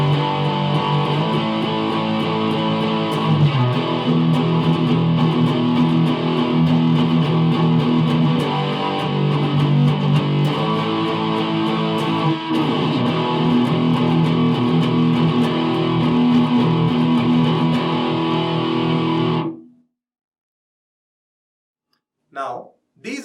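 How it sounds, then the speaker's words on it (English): Distorted electric guitar through an amplifier in a rock and roll style, a thick sustained strummed chord wash ringing steadily for about twenty seconds before cutting off, followed by brief faint sounds. "you should have an amplifier that could play rock and roll style guitar"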